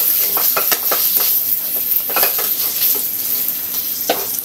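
Carrots and potatoes go into a sizzling pan, a bright hiss of frying broken by repeated clinks and scrapes of a utensil against the pan.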